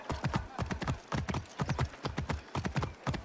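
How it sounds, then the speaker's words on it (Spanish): Horse hooves clip-clop steadily on a road in the Assassin's Creed Origins video game, a brisk even rhythm of loud close hoofbeats with a pinto horse being ridden. "vamos a coger este caballo pinto"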